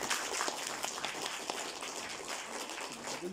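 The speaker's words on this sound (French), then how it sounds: "On peut l'applaudir." Audience applause at a manga conference closing a round-table on Miyazaki and Lupin III, a steady wash of many hands clapping filling the whole moment at moderate level with faint talk underneath.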